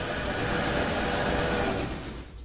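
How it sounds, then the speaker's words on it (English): A mixed freight train runs in the railway-building game Railway Empire, giving a steady, dense rumble of rolling wagons that holds even for a couple of seconds, then eases slightly at the end, with no talking. "So that's our mixed freight train."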